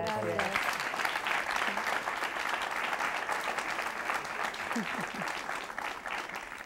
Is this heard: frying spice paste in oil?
no